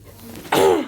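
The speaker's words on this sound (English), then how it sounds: "I'm getting over a cough." A single short, harsh cough bursts out after a moment of near silence, then trails off.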